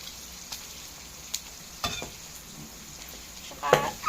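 Food browns in a hot pan, a soft steady sizzle broken by a few sharp scrapes and clinks of stirring, close by and fairly quiet, with no speech.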